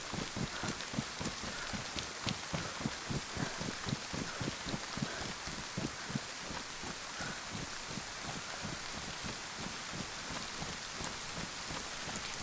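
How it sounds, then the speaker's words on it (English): Steady rain in a video game on a modded map, dense patter with rhythmic thudding impacts throughout, even and moderately loud with no speech. "I know, it's been raining a lot tonight."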